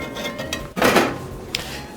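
A utensil works a frittata loose from a cast iron pan with crispy edges: a few light metallic clinks, then one loud scrape lasting about a third of a second, and a final sharp tap, all close up.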